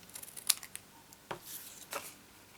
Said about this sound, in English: Now we're going to cut this little square off here, and again cut the scores off